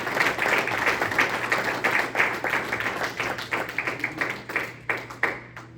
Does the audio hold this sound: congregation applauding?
yes